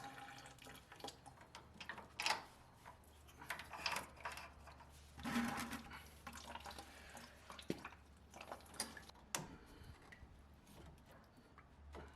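Engine coolant trickles and drips steadily from the radiator of a 2004 Mustang Cobra, with scattered small clinks and taps, fairly close, no voices.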